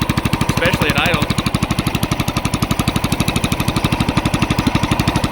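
A homemade rock mower's engine idles roughly with a fast, heavy, even chugging pulse, loud and close throughout, with a brief voice over it early on.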